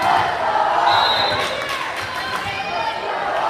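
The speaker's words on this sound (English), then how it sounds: "Student section cheering on Aubrey Wachacha as she fires off a serve." Student section cheering and crowd noise in a high school gym during a varsity volleyball match as a serve goes up, a loud, continuous wash of voices throughout.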